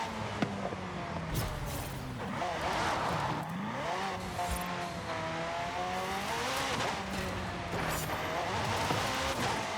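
Car driven with a wheel along dirt roads in Forza Horizon 5, engine revving up and down through gear changes with rising and falling whine, tire noise and gravel rush, loud and continuous without talking.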